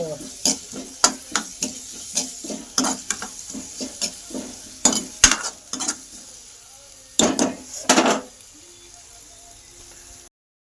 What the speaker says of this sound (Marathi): मस्त कांदा तळून घ्यायचा